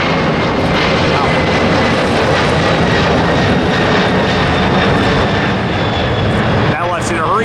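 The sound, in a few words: jet airliner taking off at LAX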